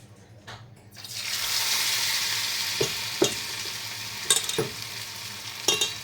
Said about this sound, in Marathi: सो हिंगा आमगे तेल तापलें आनी पॅटीस शेप दिया आनी तेका बरें फ्राय करया.